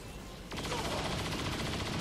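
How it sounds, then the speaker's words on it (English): A sudden burst of rapid automatic gunfire erupts in the XCOM 2 video game, a dense hail of bullets that stays loud and continuous after it starts. "She put down a hail of bullets,"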